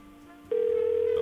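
A telephone rings unanswered: after a quiet half second a loud, steady electronic ring tone starts and keeps sounding to the end, with faint background noise before it.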